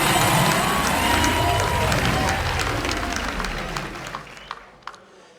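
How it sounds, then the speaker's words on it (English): A large crowd at a National Hip-Hop Honors ceremony applauds and cheers loudly in a dense roar that gradually fades, leaving scattered claps and a few whoops at the end. "Round of applause for the one and only Robert Taylor, AKA Lee."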